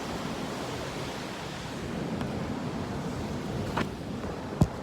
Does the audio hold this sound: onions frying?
no